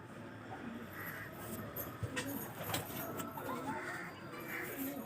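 Pet pigeons kept at home in a netted enclosure, cooing softly in repeated low murmuring phrases over quiet background noise, faint and close.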